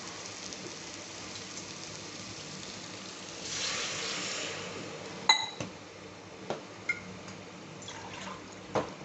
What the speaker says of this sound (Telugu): ఇప్పుడు నేను వాటర్ వేసుకుంటున్నా.